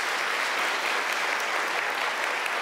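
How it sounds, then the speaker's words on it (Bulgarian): Audience applause after a technical talk on asynchronous Python, steady dense clapping filling the room at close range for a few seconds with no speech. "В такъв случай аплодисменти."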